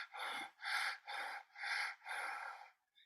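Five rhythmic, raspy breaths made by constricting the pharynx while pushing air out through nose and mouth, evenly spaced and close, each a hissing rush of about half a second with short gaps, no talking.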